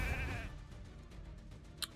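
Sheep bleating in the video game Raid: Shadow Legends during a live arena battle, a single wavering bleat up front followed by faint clicks and a sharp effect near the end.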